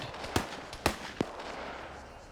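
Three sharp gunshots crack out during a multiplayer PvP match in a shooter game. The spaced reports come at moderate distance, each with a short echoing tail, over a soft ambient hiss.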